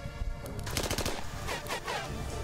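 Gunfire in the turn-based tactics game Achtung! Cthulhu Tactics: a quick volley of several sharp shots overlapping into a rattling burst, fairly quiet overall and without talk.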